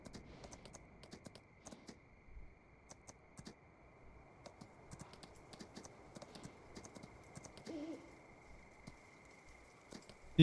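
A horse's hooves clip-clop in the Farming Simulator 19 video game, a quiet, steady run of light taps that continues throughout.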